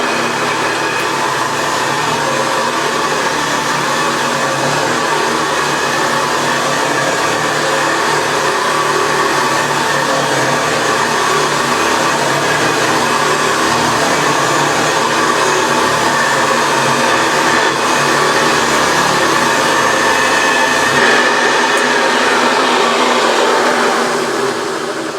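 A refurbished Hoover Senior 652C upright vacuum cleaner runs on carpet with a loud, continuous motor roar and airy rush. It holds steady for the whole stretch with no voices.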